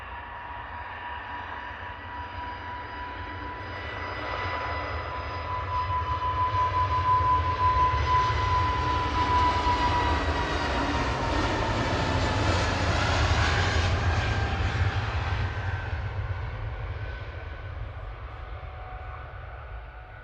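An easyJet airliner rolling for takeoff at Manchester Airport, a distant jet roar that swells into a loud, sustained engine rumble with a steady whine, then gradually eases as it climbs away.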